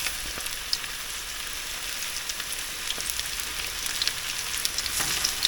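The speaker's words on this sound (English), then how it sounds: "So now the oil is smoking a bit there. So I'm going to add the fish." Walleye fillets go into smoking-hot oil outdoors in northern Canada, giving a bright, hissing sizzle with scattered pops. It is close and steady, swelling slightly toward the end, with no voices.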